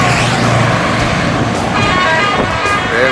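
An NPM bus departs toward Jakarta from a terminal, its engine rumbling loud and steady among heavy road traffic, with brief horn-like tones near the end and no one speaking.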